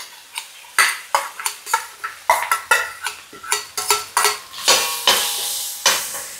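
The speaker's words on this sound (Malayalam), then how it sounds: "ബീഫ് അടിച്ച് വെച്ചേക്കുന്നത് ഇതിൽ കൂടെ ഇടാം." Mashed beef stirred into a frying potato mixture in a pan: repeated sharp metal spoon clanks and scrapes in an uneven rhythm over a soft sizzle, close and loud.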